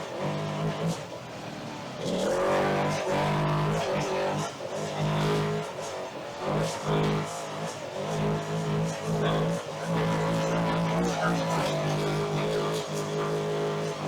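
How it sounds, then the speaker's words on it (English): A trophy truck races offroad at speed across 4-foot bumps, its engine roaring loud and close from inside the cab, revving and surging in repeated bursts as the chassis pounds over the rough terrain. "we're going across 4-foot bumps right now"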